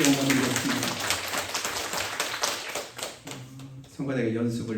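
Church congregation clapping together in a dense burst of applause during a service, with a voice speaking over and after the clapping.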